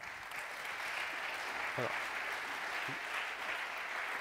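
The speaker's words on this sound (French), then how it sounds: "on peut les applaudir" Audience applause at a French e-commerce awards ceremony, a faint, even patter of clapping filling the room, with a brief word spoken near the end over it.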